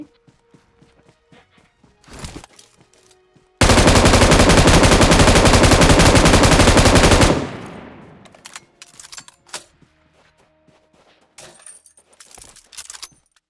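Gunfire in the mobile game PUBG: scattered single shots and short bursts, then a loud sustained automatic burst of about four seconds, followed by more sporadic shots and clicks.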